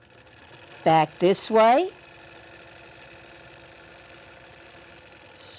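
Quilting machine stitching in the ditch on a quilt with a piano key border, speed set from the keypad on the machine head: a steady, even mechanical hum throughout. A person speaks briefly near the start.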